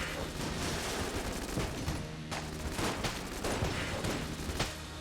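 Rapid bursts of gunfire from the Heck Blaster in the game Enter the Gungeon, a dense, crackling stream of shots fired during a boss fight, with no talk.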